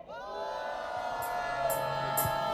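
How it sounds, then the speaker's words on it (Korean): An outdoor political rally crowd raises a sustained, swelling cheer, with many voices shouting and whooping together, some whistles on top. "함성 한번 질러보겠습니다"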